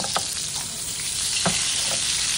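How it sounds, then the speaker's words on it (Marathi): Kingfish (surmai) frying in oil over medium heat in a home kitchen, a steady close sizzle throughout with a few brief sharper crackles and stirring clinks, no voices. "आता हिला 5 मिनिट मीडियम आचेवर शिजत ठेवायची आहे।"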